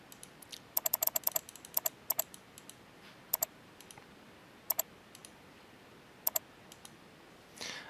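Clicks in Ceramill Mind dental software: sharp, close clicks come singly and in quick pairs and runs, with gaps of quiet between them and a soft shuffle at the very end, with no talk.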